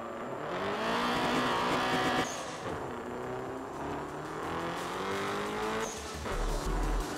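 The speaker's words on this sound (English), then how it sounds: "when you change gear and the turbo kicks in" A racing video game car's engine roars steadily as the turbo kicks in after a gear change, a continuous revving drone with small shifts in pitch and no talking.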